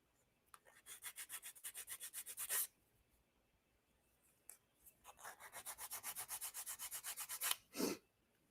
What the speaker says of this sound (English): I'm going to take a little emery board here, and I'm just going to go ahead and file down whatever's left on there.